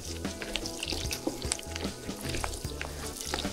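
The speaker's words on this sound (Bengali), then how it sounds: "পেঁয়াজগুলো কিছুটা নরম হয়ে আসা পর্যন্ত ভেজে নেব" Chopped onions fry in a pan for a butter chicken gravy, crackling and sizzling close by. The frying is broken by repeated stirring scrapes and soft knocks against the pan, with no talking.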